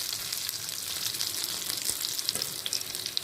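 Fish cutlets fry in a pan with a steady, close bright sizzle and crackle of hot oil, a few faint scraping pops as they are turned, no voices.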